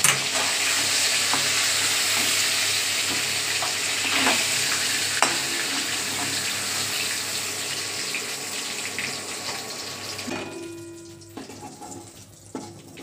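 Pieces of bhetki fish frying in oil in a pan, a strong continuous sizzle with occasional sharp spatters and crackles, fading and thinning out near the end as the frying dies down, with no one speaking.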